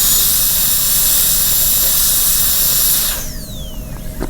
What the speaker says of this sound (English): Drill a hole at each wall, cut away from each wall, get rid of the excess.